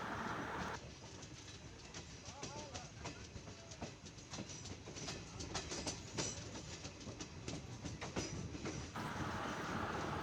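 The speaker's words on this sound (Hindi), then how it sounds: "तो दरियाबाद स्टेशन अब ट्रेन हमारी पहुंच रही है धीमे धीमे।" Train rolling slowly into Dariyabad station on the Barabanki–Ayodhya line during track-doubling work, a steady rumble with repeated wheel clacks over the rails, heard up close, with faint birdsong in the background.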